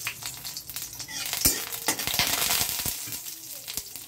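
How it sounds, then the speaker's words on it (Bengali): Two dried red chillies frying in hot mustard oil in a pan: a steady, close sizzle with sharp crackles and pops spread across the clip, no talking. "দেখো লঙ্কা 2টো আমার ভাজা হয়ে গেছে।"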